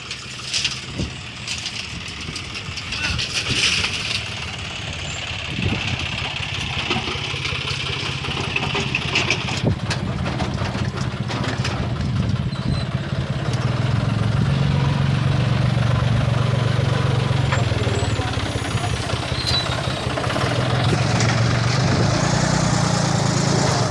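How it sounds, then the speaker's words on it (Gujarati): A tractor stands idling while a loader fills its trailer with manure, giving a steady mid-pitched engine drone that grows a little louder, with clanks and scraping knocks from the loading on top. "એક ટ્રેક્ટર ઊભું ભરાય છે"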